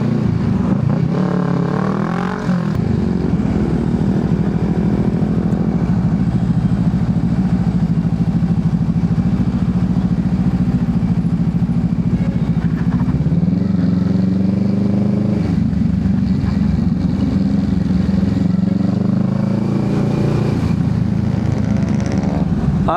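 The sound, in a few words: motorcycle riding on dug-up road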